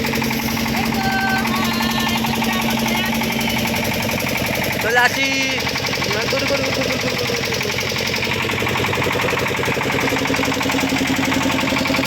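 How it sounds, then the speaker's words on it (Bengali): A motor trawler boat on a river in the Sundarbans, its engine running as a steady, chugging, knocking drone throughout, while someone talks over it. "দেখলে বন্ধুরা ওই টোলার আসছে এই ধারে"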